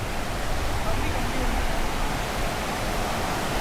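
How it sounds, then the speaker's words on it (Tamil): Water pouring down from a waterfall at Gundaru Dam near Tenkasi surges along like a large river, a steady, dense broadband rush that stays loud and unbroken throughout. "ஃபால்ஸில் வர தண்ணி இங்கே பெரிய ஆறு மாதிரி ஓடுது"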